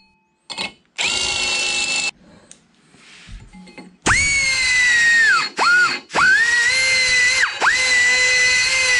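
A power tool drills out the center hole of a buffer washer to fit a 3/4 inch arbor, several loud whining bursts that start and stop, with pitch dipping as the bit bites into the metal.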